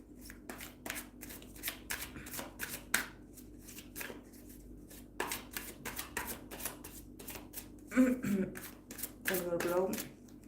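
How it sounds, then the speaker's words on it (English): Tarot cards riffle and slap in repeated quick shuffling bursts, close and crisp, with a voice murmuring near the end. "And then I'm going to pull cards for Onew."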